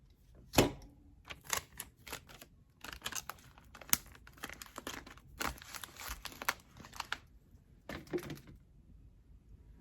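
Tape being pulled out and torn off the roll in a garden potting setting, giving sharp crinkling rips and clicks in irregular close bursts separated by short quiet gaps.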